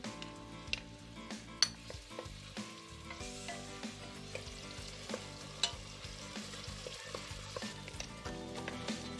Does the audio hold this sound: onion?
yes